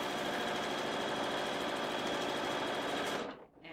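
Sewing machine stitching a linen facing onto the neckline of a Grace peasant top, a steady close whirring drone that runs on evenly, then briefly dips and slows near the end.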